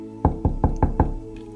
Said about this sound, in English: Dr. Henderson knocks on the women's room door.